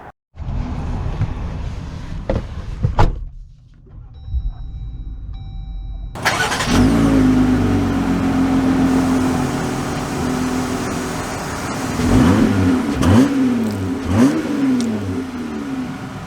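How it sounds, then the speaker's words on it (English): A 2022 Jeep Gladiator Rubicon starts up, then its engine settles into a steady hum as the truck pulls away, with a few rising revs as it accelerates near the end. "So, setting off here in the Gladiator Rubicon."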